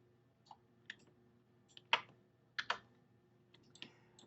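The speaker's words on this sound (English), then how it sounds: "I pressed 6 on my keyboard." Isolated computer keyboard key presses sound as a handful of soft, sparse clicks over about four seconds in a quiet room, including a quick double tap partway through.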